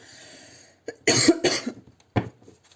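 Someone coughs nearby, a couple of harsh, chesty bursts followed by a single cough after a short gap.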